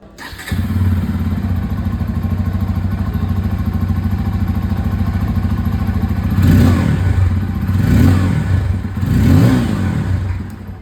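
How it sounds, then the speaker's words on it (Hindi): A Bajaj Pulsar N250 motorcycle idles with a steady throbbing from its dual-barrel exhaust, then three sharp revs rise and fall, loud and close. "अब मैं आप लोगों को यहाँ पर N250 की जो डुअल बैरल एग्जॉस्ट की जो साउंड है वो भी"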